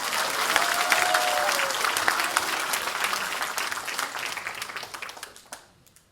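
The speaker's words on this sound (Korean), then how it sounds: "박수 한번 쳐드리죠." Audience applause at a political talk concert in Incheon, a sustained roar of many hands clapping that slowly tapers off and fades to near silence at the end.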